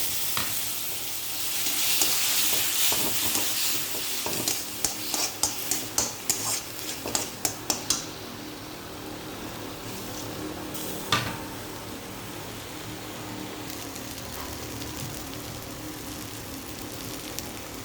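Small Assamese tingora fish sizzles and gets stirred in a pan with turmeric for a mustard curry. A steady close frying hiss runs throughout, with a quick run of sharp utensil scrapes and taps on the pan in the middle.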